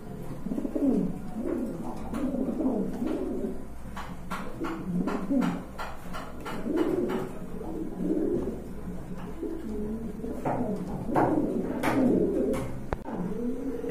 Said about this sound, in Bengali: এখানে কিন্তু আর এক জোড়া ভেলভেট শিল কবুতর রয়েছে